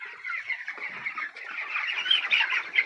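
A black chicken on a poultry farm clucks in soft, continuous, chattering murmurs close by, with other fowl faintly mixed in and no talking.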